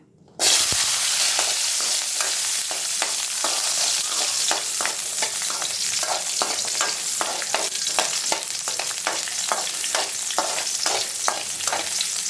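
Sliced onions sautéing for coconut chutney, a loud continuous sizzle heard up close with the steady scrape and clack of a spoon stirring the pan, and no talk.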